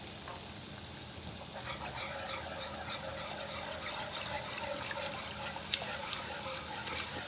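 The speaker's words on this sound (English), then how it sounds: "we'll take the milk and add the milk inside" Cold milk pouring into a warm roux over onions in a home kitchen, a soft steady wash of liquid with faint sizzling and stirring, quiet and continuous with occasional small clicks, no talking.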